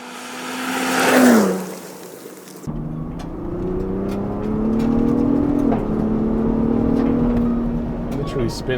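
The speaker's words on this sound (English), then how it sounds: "Literally spins all 4 tires" A Ford Bronco Raptor with over 400 horsepower accelerates hard, its engine rising in a loud roar, then holding a steady revving drone as the tires spin, with a voice talking over it.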